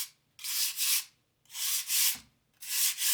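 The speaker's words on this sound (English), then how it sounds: "when I say the lightest possible sanding in the world" Light sanding of an upcycled cardboard coaster with a faux wood finish: three close, soft, hissing rubbing strokes with short pauses between them, and no talking.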